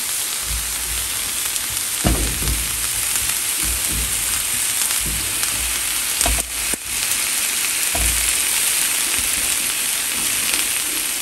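Tomatoes roast on a hot comal with a steady, soft sizzle, broken by a few sharp clinks and taps as they are moved and turned.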